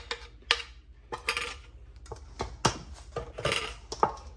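A spoon mixes jerk seasoning into raw chicken wings in a bowl, giving irregular close metallic scrapes and clinks against the bowl with soft wet shifting between strokes, and no voices.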